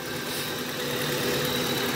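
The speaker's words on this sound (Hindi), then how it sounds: "और आज की मारुति की आवाज़ सुनना आप, ये देखो।" A Maruti car engine running steadily under the open hood, a continuous close, loud idling hum and rumble with no talking.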